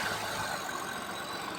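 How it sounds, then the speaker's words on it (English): A 2021 Ford F150 EcoBoost truck engine fitted with an aFe Rapid Induction cold air intake idles steadily, a low, even rumble with faint turbo whine, heard briefly and alone. "Definitely hear the turbo now."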